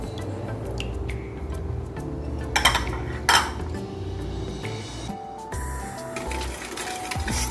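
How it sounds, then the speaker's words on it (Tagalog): A utensil stirs vinegar, water, sugar and salt in a container for fermented hot pepper, giving soft scraping, a steady swish and a few sharp clinks against the sides. No one speaks. "Stir it until the sugar and salt melted."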